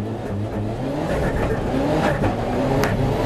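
A rally car accelerates hard on the Barbórka Warszawska rally, heard from onboard: a rising, revving engine drone with gear changes and a brief high squeal, loud and continuous.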